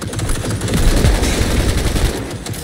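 A gun turret fires in rapid sustained bursts during a Cyberpunk 2077 firefight, loud and dense automatic shots rattling continuously for a couple of seconds.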